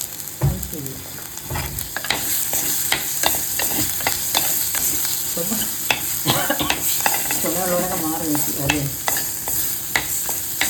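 Kottayam-style tuna fish curry with chili sizzles steadily in a pan while a utensil stirs it, giving repeated scraping clicks over a continuous frying hiss.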